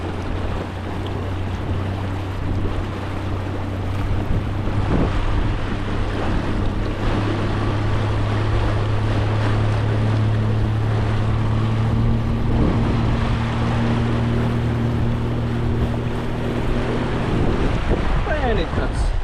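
A boat driven by a DIY 26 hp electric outboard gradually picks up speed, with a steady motor hum and rising tone under continuous wind buffeting and water rushing against the hull, close and sustained throughout.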